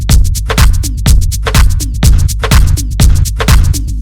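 A punchy kick drum repeats in a steady loop, each hit thick and loud, its distorted crunch alternating with a cleaner tone.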